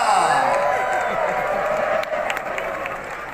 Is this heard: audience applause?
yes